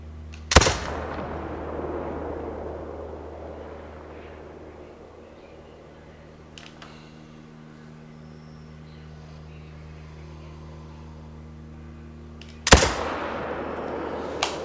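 Two loud hunting rifle shots aimed at whitetail deer in theHunter: Call of the Wild, about twelve seconds apart, each a sharp crack trailing into a rolling echo over a steady low ambient hum.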